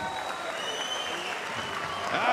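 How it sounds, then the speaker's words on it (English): Crowd applause rises for the finalists of a sheep shearing competition, a dense continuous wash of clapping that grows slightly louder toward the end. "Let's hear a big round of applause for Archie Parson, Cammy Wilson, Gavin Mudge, Hamish Mitchell, Stuart Davidson, and Callum Shaw"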